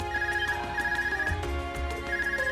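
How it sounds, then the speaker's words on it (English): An Arcus communication device rings in the video game Trails of Cold Steel, a repeating electronic phone-style chime pulsing steadily over layered game music, with no talking. "Is that your Arcus ringing? What's it doing ringing out here?"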